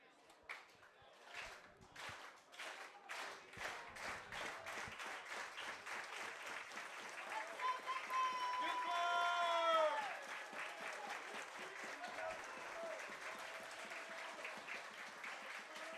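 Baseball crowd at a Crabs versus Healdsburg Prune Packers game applauding and cheering in the 9th inning, steady clapping swelling toward the middle, with whistles rising over the din.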